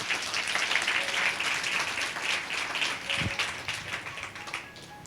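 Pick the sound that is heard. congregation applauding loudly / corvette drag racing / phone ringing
congregation applauding loudly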